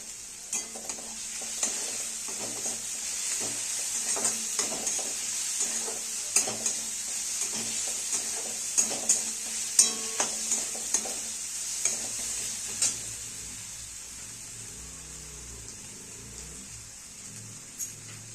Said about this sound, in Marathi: आता सुरुवातीला कांदा पात आहे ती भाजून घेऊया.